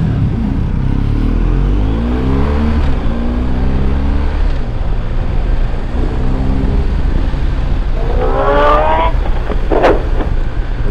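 Motorcycle engines heard from inside a rider's helmet amid heavy wind roar, with rising revs as another bike overtakes, a strong close drone and climbing pitch sweeps near the end.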